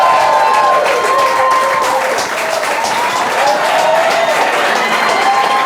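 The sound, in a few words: audience applause for a TV show guest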